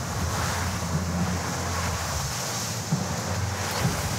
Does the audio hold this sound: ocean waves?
yes